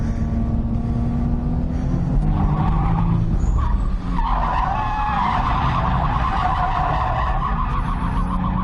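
Nissan 350Z with stock HR engine drifting, tires skidding and squealing continuously over a loud, steady engine roar, close and sustained throughout.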